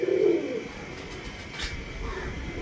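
Teddy pigeons cooing nearby, a low throaty coo at the start followed by softer cooing and faint chirps over a steady background hum.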